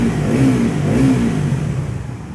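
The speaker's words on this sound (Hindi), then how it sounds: "If you want to know how the motorcycle will sound inside a tunnel" A Bajaj Pulsar NS400Z motorcycle engine revs loudly inside a tunnel, echoing, the exhaust note rising and falling twice before settling back to idle.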